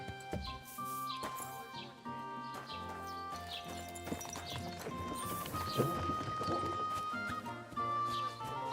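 Horse hooves clip-clop with a brief whinny in the medieval game Kingdom Come: Deliverance II, layered over steady game music and ambience that run throughout.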